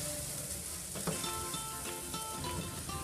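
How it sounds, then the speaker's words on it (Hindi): Onion sizzling in a pan of frying ginger-garlic paste, a steady close crackle with a few brief clinks, no voices. "अब हम इसमें अनियन ऐड करेंगे। और इसको भी फ्राई करेंगे।"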